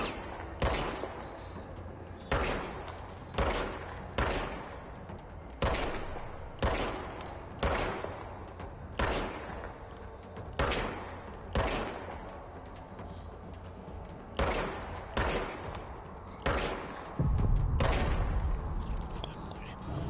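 Repeated gunfire from the service weapon in the video game Control: sharp shots in irregular bursts of two or three, loud and close, spread across the whole stretch with a heavier low thump near the end.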